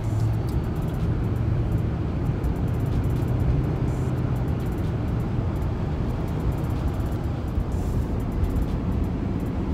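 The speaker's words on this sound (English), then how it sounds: "the Armada actually has a pretty unique engine noise, which right now it's still cold, so I got a lot of fan noise going on" A cold Nissan Armada SUV on the move, its engine and cooling fan running hard, making a steady, continuous broadband roar with a low drone throughout and no voices.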